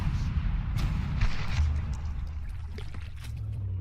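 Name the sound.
shots bouncing off armour in a video game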